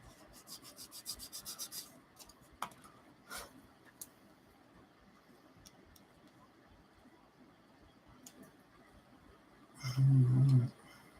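A burr is scraped off a plastic part from a 1/24 scale Airfix Spitfire Mk Vb kit with a rapid run of close, fine rasping strokes, then scattered light handling noises and a louder rub near the end.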